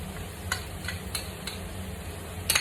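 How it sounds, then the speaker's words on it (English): Onion with ginger garlic paste frying in a pan for bhindi masala, a steady low sizzle with a few soft stirring scrapes at regular intervals, nothing spoken. "fry till onion and ginger garlic paste is nicely brown"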